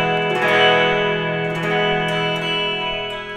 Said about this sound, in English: I've also got a chorus pedal, I've got a reverb through the amplifier, just to try and get that jangly sound.